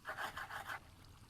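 Five quick rasping strokes in a steady rhythm, a saw cutting metal rods in the video game GregTech New Horizons, then stopping, leaving low background hum.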